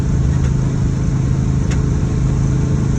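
Engine floored in a car climbing uphill eastbound on Highway 180 at about 60 mph and near 3,000 RPM, a loud, steady, droning roar with road noise that holds constant throughout, no voices.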